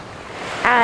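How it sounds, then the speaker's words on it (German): Sea waves washing onto the beach at Playa del Carmen, Mexico, a steady wash of surf that swells louder near the end, with some wind noise on the microphone. "vorher kam die Flut und ich war unter Wasser"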